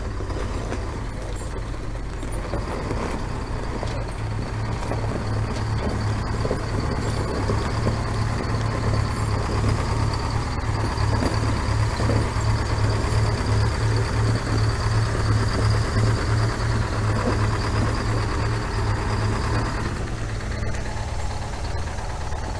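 A 1938 GMC service truck's engine labours steadily in reverse on soft ground, a loud, continuous low rumble with a pulsing throb lasting over twenty seconds.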